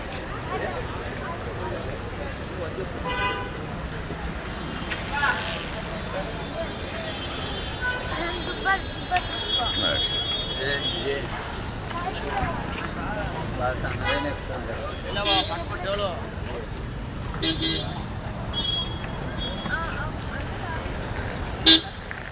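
Cars arrive for early-morning pickup outside Majestic station in Bengaluru, a steady roar of idling and passing traffic with scattered car horn toots, one sharp honk near the end, and someone talking throughout.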